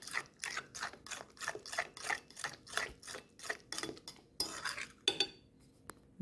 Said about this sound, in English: And we're just going to mix properly to combine.